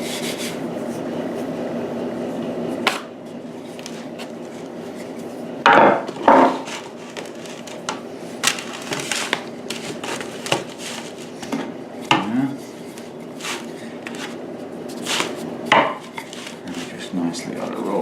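A rolling pin works gingerbread dough on a floured surface, a steady soft rubbing and rumbling with occasional wooden knocks and taps, close and moderately quiet.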